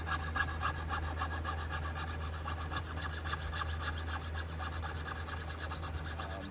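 A jeweler's saw fitted with a C.R. Hill jewelry blade cuts with fast, even back-and-forth strokes, a continuous close rasping without talk.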